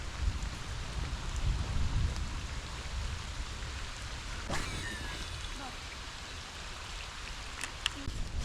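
Rain on a pond on a wet day of topwater fishing, a steady close hiss of falling drops with a few faint brighter patters and no talk.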